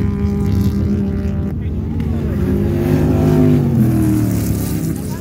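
A sand drag racing vehicle at the Glamis dunes revs and accelerates hard with a loud, rising engine roar, while people talk over it nearby.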